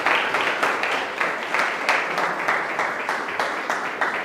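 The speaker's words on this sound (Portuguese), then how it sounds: "Dá uma salva de palmas" A church congregation claps during a sermon, a loud sustained round of applause that falls into a loose rhythmic beat, with no talking over it.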